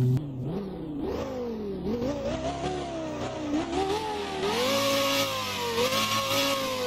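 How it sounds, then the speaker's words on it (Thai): A Lamborghini revs in the Driving Empire video game, its engine note climbing and dipping through repeated throttle blips before settling into a loud, sustained high rev. "ลองฟังเสียงเบิ้ลๆกันหน่อยแล้วกันนะว่ามันจะซ่าแค่ไหนนะครับผม"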